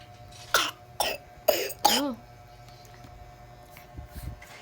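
A child coughs four times sharply in quick succession, close and loud, the last one rough and raspy, followed by quiet background noise.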